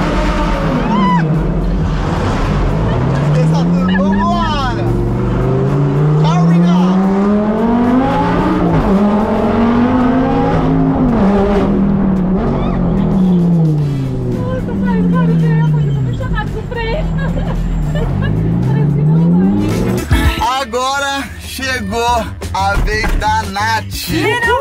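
A Lamborghini's engine revs hard, rising and falling through several loud sweeps with tire squeal, while people talk and shout over it nearby.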